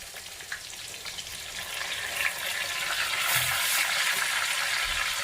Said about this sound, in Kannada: ಚೆನ್ನಾಗಿ ಫ್ರೈ ಆಗಬೇಕು ಈರುಳ್ಳಿ